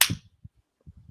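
A single sharp slap, like a hard open-handed smack across a face, cracks loudly at the start and then gives way to a few soft low thumps and rustles.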